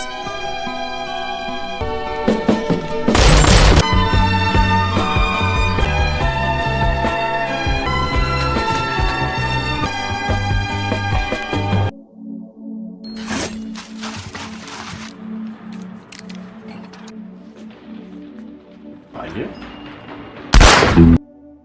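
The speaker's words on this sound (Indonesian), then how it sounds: "di saat terakhir, Zoller membalas tembakan tersebut" Dramatic war film soundtrack with music, then sharp gunshots ring out, a loud burst early and another near the end, with a tense quieter stretch between.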